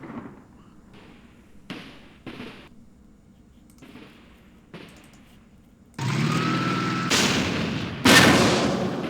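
Outgoing artillery in a Middle East war strategy game fires in a series of sharp thumping reports, sparse and muffled at first, then louder, heavier blasts with rumbling tails near the end.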